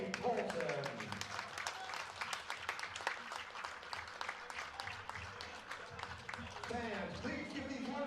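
Crowd applause for senior players at a college baseball doubleheader between New Mexico State and Utah Valley, steady clapping from a stadium audience lasting the whole stretch, with people talking over it.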